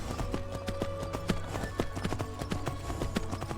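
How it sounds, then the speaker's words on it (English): Horse hooves clip-clop in the video game Skyrim: a steady, rhythmic run of distinct hoof strikes, close and clear, with no talking. "There's another horse over here."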